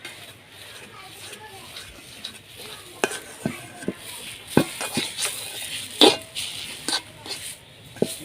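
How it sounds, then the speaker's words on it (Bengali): Lentil paste for dhoka is stirred and fried in a pan: a low sizzle sits under repeated sharp scrapes and clinks of a spatla against metal. Close, with some faint talking in the background. "ধোকা তৈরি করার জন্য ডালটা ভাজা হয়ে গেছে"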